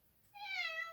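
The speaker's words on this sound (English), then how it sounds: "That is his little hello meow." A pet cat gives a single drawn-out greeting meow on returning home, close and clear after a quiet moment.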